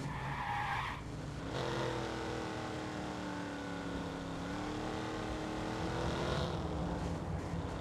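Car driving fast with sustained tire skidding and squeal in the video game Watch Dogs, a steady close engine roar with screeching tires running through nearly the whole stretch, no speech.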